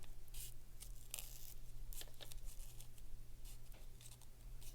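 Scissors snip paper in short, quick bursts, cutting small pieces away one at a time at close range over a steady low hum, with no talking.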